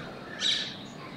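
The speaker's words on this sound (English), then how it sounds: "Oh, that's the parakeets." Parakeets outdoors in cold weather giving a single brief, bright chirp from a short distance, fairly soft against quiet background noise.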